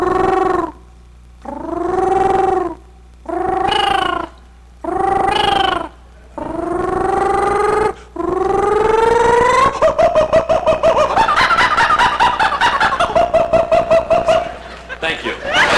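A man imitates a kookaburra with his voice, starting with separate rising hoots and building into a continuous, loud, chattering laugh-like cackle that runs several seconds.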